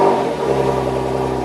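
A Porsche Macan Turbo engine idles just after starting, a steady close mechanical hum with even harmonic tone and no clear rev rise, no voices.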